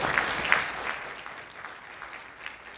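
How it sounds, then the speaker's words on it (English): An audience at a talk about information and trusted libraries gives a short round of applause, moderate in volume and fading after a few seconds. "Give him a clap, yes, give him a clap."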